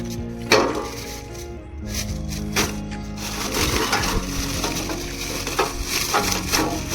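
Large chunks of barbecue charcoal being broken apart, giving irregular cracking and crunching impacts over a dense, noisy background, moderately loud and close.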